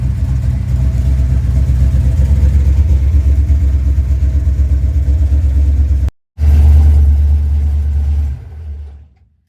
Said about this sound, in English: It's idling on its own.